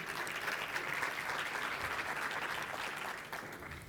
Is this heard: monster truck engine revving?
no